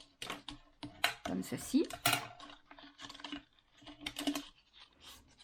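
Paper is creased into folds for a handmade mini album binding, with short dry taps, rubs and crinkles in quick irregular bursts, close and fairly quiet, while someone speaks briefly.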